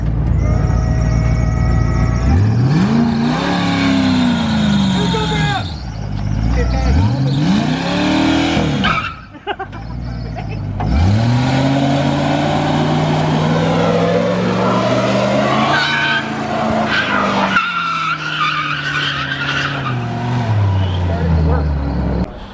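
A car revving and sliding on a skid pad, engine pitch rising and falling in repeated sweeps with tyre noise, loud and close, with people talking over it.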